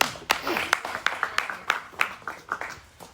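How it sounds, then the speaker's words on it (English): A small audience of adults and kids gives a round of applause for a child named Alex, with scattered, irregular hand claps that come through at moderate volume for a few seconds, without any talk. "Round of applause for Alex."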